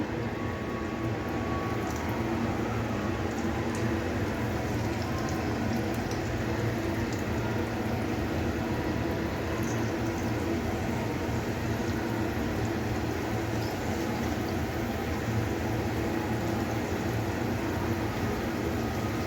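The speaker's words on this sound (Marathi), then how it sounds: "अशा प्रकारे तळण्यासाठी ठेवलेले आहे." A dense, continuous bubbling crackle of bread snacks deep frying in oil, steady and even throughout with no voices.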